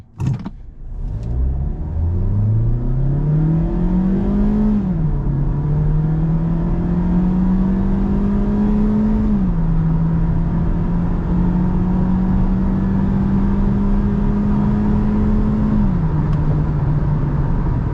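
A 2021 Mazda CX-3 in normal mode launching from standstill to 100 km/h, the engine note climbing loudly through rising sweeps and dropping at each gear change, heard from inside the cabin with no talking.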